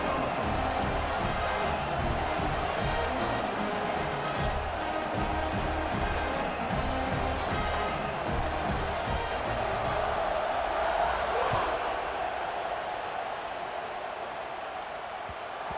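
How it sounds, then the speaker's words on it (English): Simulated stadium crowd in EA Sports College Football 26, a dense continuous roar of cheering fans at kickoff that swells and then eases slightly toward the end. "this crowd now ready to get behind them"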